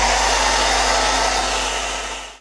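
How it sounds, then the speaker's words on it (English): A hairdryer blows on a wet watercolour painting, giving a loud, steady close-up whoosh and motor hum that runs unbroken before cutting off abruptly at the end. "Now I'm now going to get the hairdryer on it"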